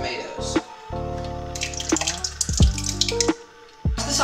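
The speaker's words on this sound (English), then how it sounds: "And pour in your tomatoes" Tomatoes are poured into a pot of turkey sauce with chicken stock and tomato paste, giving wet splashing and dripping plops close by, while a voice talks over a background music bed.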